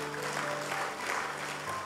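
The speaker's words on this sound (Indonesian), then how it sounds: "Tepuk tangan dulu." A church congregation applauds together at an evening worship service, a brief, dense burst of clapping that fills the room from start to finish.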